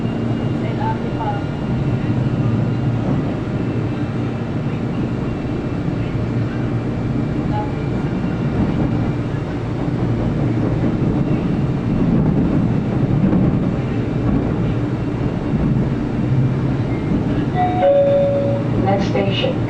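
A steady low rumble of an LRT Line 2 light rail train in motion in Manila, with broadband rolling noise throughout and a brief tonal chime near the end.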